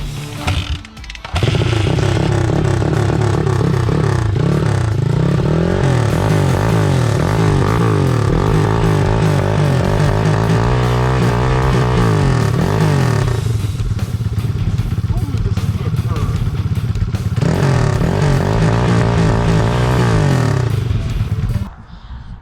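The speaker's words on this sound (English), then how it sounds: "that nice Super Trap exhaust on there" A small vintage ATV engine with an aftermarket Super Trap exhaust runs loudly up close, its pitch rising and falling as the throttle is revved, with a raspy exhaust note throughout.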